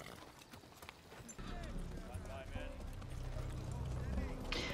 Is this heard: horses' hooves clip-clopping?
yes